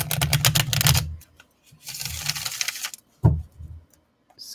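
Tarot cards get a couple of quick hand shuffles, close rapid bursts of riffling clicks with short pauses between them, loud and alone.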